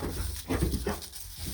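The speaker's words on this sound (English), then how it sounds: "And there's a guard dog up there barking." A guard dog with a sheep flock gives a couple of short barks in close succession, fairly faint against outdoor background noise.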